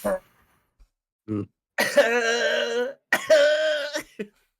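A person coughs in a few sharp bursts, followed by two longer voiced, strained sounds with short silent gaps between.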